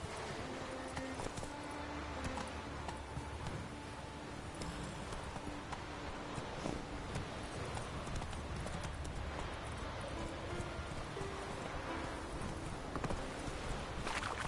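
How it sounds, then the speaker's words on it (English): Horse hooves clip-clop steadily in the video game The Witcher 3, an even walking rhythm over a dense bed of game ambience and music. "Whoa there, Roach. Come on, Roach."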